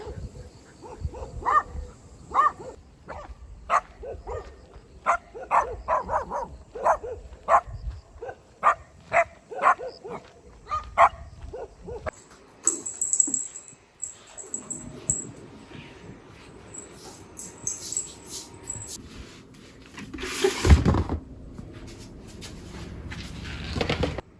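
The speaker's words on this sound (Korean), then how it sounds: "꼬리를 흔들면서 짖네?" A dog barks in a rapid run of sharp, repeated yaps that fill the first half, then thins out amid household clatter and faint voices in a rural Korean home setting.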